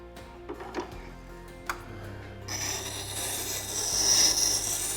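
A woodturning tool's bevel is stroked across a sharpening stone, producing a steady gritty rasping that begins softly and grows louder and more continuous toward the end, with a few light clicks before it.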